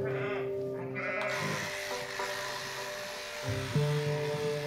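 Ewes on a sheep farm in the Doubs bleat in a steady overlapping chorus, several voices close and loud, over a continuous buzzing drone like electric clippers during shearing.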